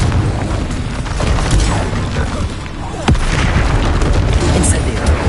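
A Confringo blasting spell explodes in Hogwarts Legacy, with loud, dense rumbling booms and a sharp burst in the middle, while a voice speaks over the din.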